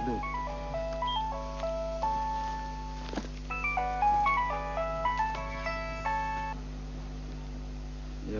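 A mobile phone plays a melodic electronic ringtone, a bright sequence of beeping notes in two phrases over a low steady hum, then stops.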